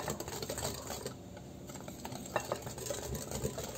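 Cornmeal for broa de fubá being added bit by bit and stirred into batter in a bowl, close and fairly quiet, with a continuous scraping and swishing and soft irregular clicks of the utensil.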